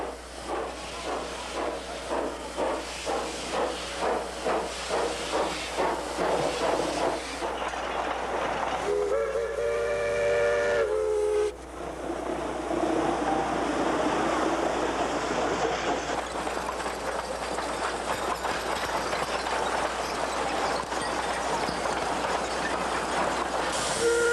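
Steam locomotive 1321, 83 years old, running on the rails with rhythmic chuffing and clickety-clack, a long hissing steam release in the middle, then a steady rolling rumble and clatter close by.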